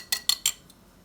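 A metal spoon clinks against a bowl while khandvi batter of raw gram flour is mixed, three quick bright taps and a fainter fourth, close and short.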